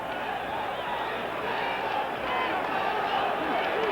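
Boxing arena crowd at a bout between Wilfredo Benitez and Harold Weston, a steady, dense roar of spectators cheering and shouting throughout, loud and continuous with no single voice standing out.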